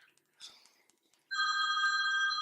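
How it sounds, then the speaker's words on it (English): A telephone begins ringing partway through with a loud, steady electronic trill, after a few faint rustles and soft sounds. "It sounds like a phone."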